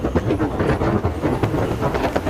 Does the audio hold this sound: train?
yes